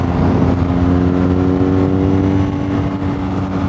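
A BMW R NineT Pure motorcycle is ridden at a steady pace, its engine a loud, continuous low drone with a steady pitch under heavy wind rush, and no voices.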